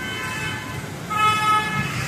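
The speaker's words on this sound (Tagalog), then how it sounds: "O meron pa isang ambulansya. Taga Valenzuela." An ambulance siren on a busy road near Navotas wails steadily in the middle distance and grows louder midway, over constant traffic rumble.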